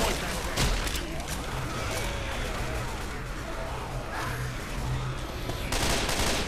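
Rapid automatic gunfire in a zombie shooter game, dense continuous bursts filling the whole stretch loud and close, with someone talking over it.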